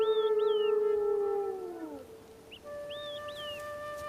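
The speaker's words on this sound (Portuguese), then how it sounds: "Seus uivos assumem um aspecto melancólico, de busca, como se tentassem chamar Motoki de volta." Wild wolves howl in long, mournful rising-and-falling tones, several voices overlapping at once before fading, then a second round of howls begins, fairly close and clear over faint background hiss.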